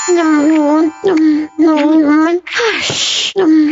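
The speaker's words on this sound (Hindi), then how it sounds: "चिली से मेरी छींक निकल जाती है।" A cartoon character sneezes loudly after eating chili sauce, one sharp burst breaking up animated high-pitched speech close to the mic.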